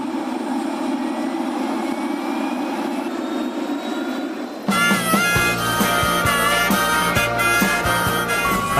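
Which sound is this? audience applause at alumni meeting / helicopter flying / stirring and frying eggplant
helicopter flying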